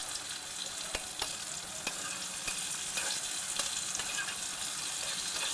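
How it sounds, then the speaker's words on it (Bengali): Potatoes fry in hot oil with whole garam masala, bay leaf and dried chilli, a continuous close sizzle broken by several sharp scraping clicks of a spoon stirring the pan. "এবার আলুটা মাঝখানে ফাঁকা করে গোটা গরম মশলা, তেজপাতা, শুকনো লঙ্কা দিয়ে নাড়ব।"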